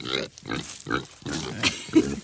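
A pig grunts repeatedly at close range in short, low, rhythmic bursts.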